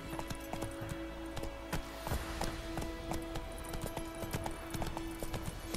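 Steady clip-clop of horse hooves at a trotting pace in the video game The Witcher 3, over continuous background noise and a sustained tone, fairly loud and constant throughout.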